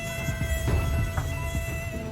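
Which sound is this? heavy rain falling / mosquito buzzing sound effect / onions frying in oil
mosquito buzzing sound effect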